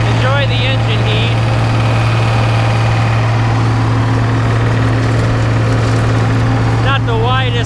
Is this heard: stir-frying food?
no